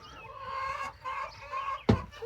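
Chickens at a small homestead coop give close, repeated clucking calls in short phrases, ending with a sharp knock or thump.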